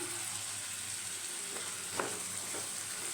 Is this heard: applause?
no